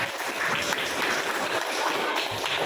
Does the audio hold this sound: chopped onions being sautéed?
no